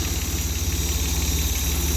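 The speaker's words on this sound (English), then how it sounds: "So I'll just let that tick over for a little bit longer, get some heat into all the systems." A cold Austin Healey 3000 idles steadily, a low, even engine rumble with a faint ticking pulse running alone throughout.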